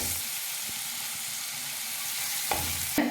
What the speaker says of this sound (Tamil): வெங்காயம் நல்ல நிறம் மாறுற வரைக்கும் வதக்கிக்கலாம்